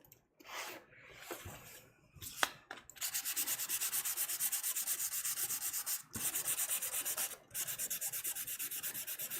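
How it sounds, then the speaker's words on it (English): Painted wood hand-sanded with 220 grit sandpaper under light pressure, close and scratchy: a few irregular strokes first, then a long run of fast, even back-and-forth rasping with two brief pauses. "And what I grabbed was 220 grit."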